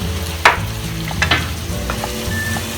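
Chicken sizzles steadily in a pan as water and spices go in, with a couple of sharp splashy bursts and a few light stirring ticks over a constant hiss.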